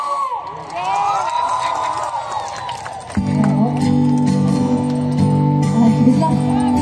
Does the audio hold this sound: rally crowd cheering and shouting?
yes